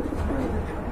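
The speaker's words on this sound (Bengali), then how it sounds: "ভাই এটা কি কবুতর?" Pigeons cooing at a pigeon market, a low soft throaty coo rolling on close by with no clear talk over it.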